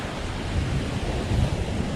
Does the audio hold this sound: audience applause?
no